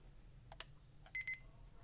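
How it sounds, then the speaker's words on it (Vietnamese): Sony ICF-CA5V clock radio alarm going off at the set hour: a couple of short, high electronic beeps rise out of a quiet room, brief and fairly close, with faint background hiss between them. "Đấy, chuông đã kêu này."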